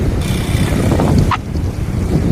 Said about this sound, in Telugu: గాలి బాగా వస్తుంది